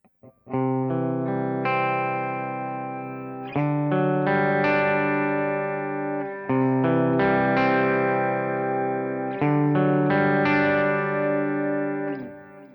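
Electric guitar notes picked in sequence and left ringing over one another, building a sustained shimmering chord; the pattern repeats about every three seconds, with chorus-like effect.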